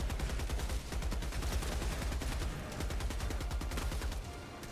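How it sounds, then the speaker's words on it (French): Rapid automatic gunfire in the Helldivers 2 video game, fought against Automatons, comes as dense, loud, fast-repeating bursts that run almost nonstop through the clip. "À droite, ça vous fait des coups de feu, quoi."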